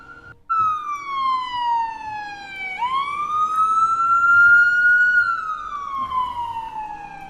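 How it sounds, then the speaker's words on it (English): A siren alert on a trading live stream wails alone after a sharp start, one long tone sliding down, jumping back up and slowly falling again, loud and clean with harmonics. "I'm gonna shut the siren off just so you don't go crazy."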